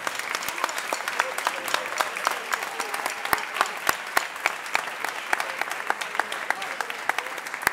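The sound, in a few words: applause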